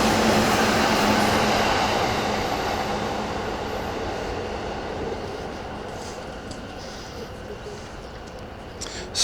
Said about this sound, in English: See, trains, now there's a sound. They sound awesome. They sound like trains.